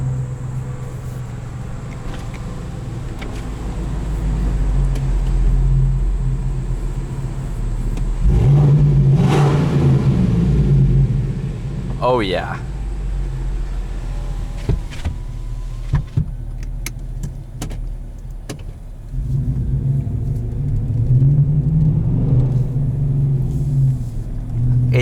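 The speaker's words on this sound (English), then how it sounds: "I'll pull it forward so you can kind of hear the exhaust." A 2018 Chevrolet Silverado 1500 LT Z71 Redline Edition pulls forward with a deep, loud exhaust rumble that swells and settles, with a brief exclamation from a person partway through.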